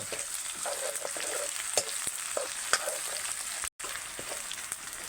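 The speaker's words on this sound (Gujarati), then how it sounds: "હવે થોડીક વાર આને તેલમાં પાકવા દઈએ મીઠો લીમડો" Curry leaves, onion and masala fry in oil, a continuous close sizzle broken by occasional light stirring taps and one brief dropout.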